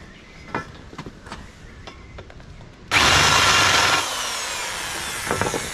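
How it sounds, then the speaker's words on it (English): Quiet clicks and taps, then a power drill with an oversized bit whirs loudly for about a second, reaming hole edges like a countersink, and keeps grinding more softly, followed by a few scraping knocks. "So, using the big drill bit."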